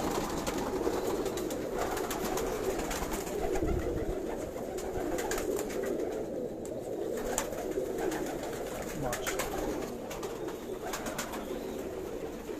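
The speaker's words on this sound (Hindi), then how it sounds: "भाइयों ये कबूतर चेक करें। शायद भी कौन से कबूतर है, गोल्डन है।" Golden high-flyer pigeons cooing in a loft, soft repeated coos over a steady bed of background noise and clicks, fairly faint and continuous.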